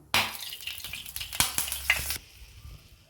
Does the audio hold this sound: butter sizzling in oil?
yes